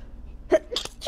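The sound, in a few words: sneeze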